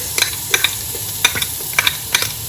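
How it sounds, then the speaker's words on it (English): A tablespoon of minced garlic in half a cup of hot oil, giving a loud, close crackling sizzle with quick bright spits and pops scattered across a steady frying hiss. "I've got half a cup of oil that's been heating up. To this I'm going to add 1 tablespoon of minced garlic."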